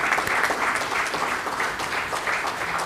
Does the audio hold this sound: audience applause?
yes